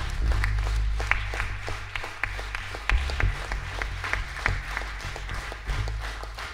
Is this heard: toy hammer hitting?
no